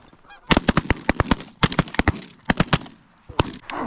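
During an early-season goose hunt in North Dakota, a flock of geese honks loudly and close, with a rapid run of overlapping calls in three bursts separated by short pauses.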